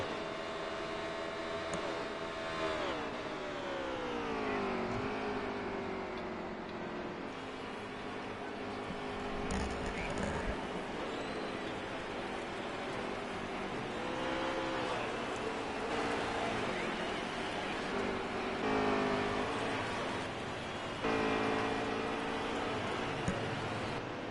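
Race truck engines in the Veedverks Gunman Truck Series drone steadily and rise repeatedly in pitch as they climb through the gears, a continuous layered roar of several trucks without any talk.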